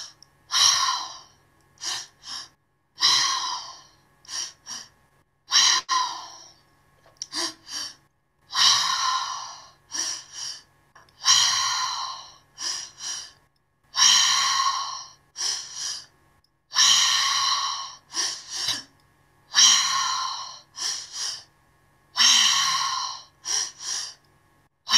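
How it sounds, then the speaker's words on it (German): Slow, deliberate breaths drawn in and let out through the mouth during a guided breathing exercise, filling the belly and then the chest. About a dozen airy inhale-exhale cycles repeat steadily and close by with no talking. "Wir atmen durch den Mund zuerst in den Bauch, dann in den Brustkorb und dann lassen wir den Atem ausfallen."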